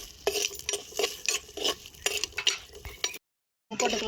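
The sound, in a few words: sautéing garlic, green chilies and onion in a pan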